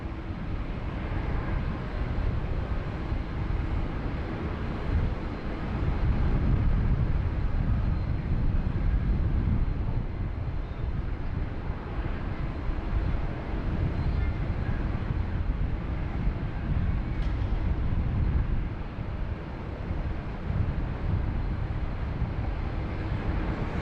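An airliner departing Sydney Airport produces a steady, loud broadband engine roar that holds for over twenty seconds without fading, heard alone with no talking.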